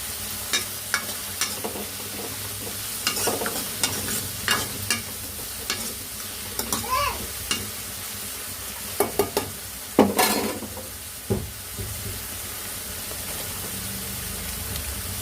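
Curry with salt, turmeric and chili powder stirred in a hot pan, a constant close sizzle punctuated by repeated spoon scrapes and taps against the pan, no talking.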